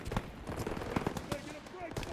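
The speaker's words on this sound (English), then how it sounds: "Gunfire! We must be near our guys." Rapid bursts of automatic and single-shot gunfire from a World War II battle in the Call of Duty: WWII Death Factory level, crackling at moderate distance in an irregular rhythm, with shouted voices over the shooting.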